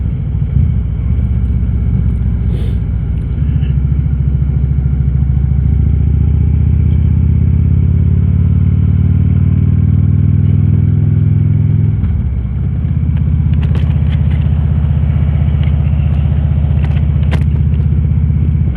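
A 2013 Harley-Davidson motorcycle rumbles steadily throughout while riding on a clear day, its low engine drone loud and close with a slight dip and pitch change midway, no voices.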